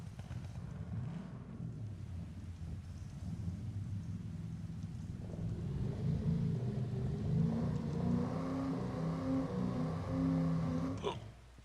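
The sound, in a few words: car engine revving in video game Farming Simulator 25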